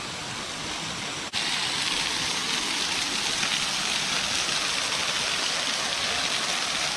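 Antalya waterfall roaring from a spot behind the falling water, a loud, constant broadband rush that fills the space and stays steady throughout, broken only by a brief dip near the start.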